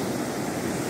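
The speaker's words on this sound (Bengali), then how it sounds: "আর সমুদ্রের ঢেউ।" Sea waves on Varkala beach, a cliff beach with black sand: a brief, steady wash of surf, fairly quiet and continuous, with no voices.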